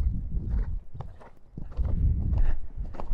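A ridden horse's hooves clip-clop in quick, uneven strikes close by, with some thuds and shuffling between beats, fairly loud throughout.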